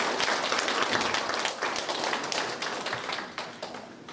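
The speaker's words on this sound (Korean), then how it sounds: "큰 박수로 감사합니다." Audience applause at a forum on filial piety, a dense spread of many hands clapping that gradually thins and fades over a few seconds.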